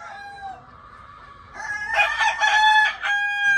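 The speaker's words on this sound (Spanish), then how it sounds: "Aquí con el gallito." A fighting rooster crows close by, a drawn-out call followed by a louder, stronger cock-a-doodle-doo that rings clearly over quiet background.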